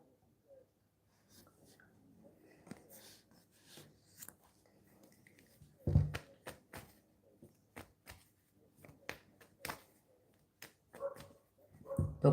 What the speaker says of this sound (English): Dog barking again.